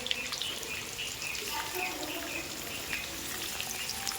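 Paneer frying in a pan, a continuous soft sizzle with faint crackles and a light watery hiss, fairly quiet.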